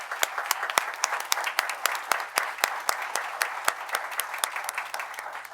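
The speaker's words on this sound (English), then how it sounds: "Please give her a round of applause." Audience applause at a town board meeting, a steady patter of many hands clapping for several seconds at moderate loudness, with no one speaking over it.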